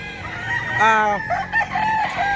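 A gamecock broodcock rooster crows once, close and loud, in a single full cock-a-doodle-doo with some faint background noise around it.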